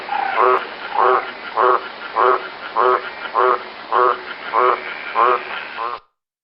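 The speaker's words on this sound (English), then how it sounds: "So that's the green tree frog." Green tree frog calling in about ten evenly spaced, loud, raspy croaks, each a short pulsed burst, heard alone and close.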